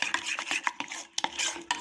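Yogurt and gram flour are stirred together in a pan, a spoon scraping and clinking against the metal in quick irregular strokes, close and alone without talk.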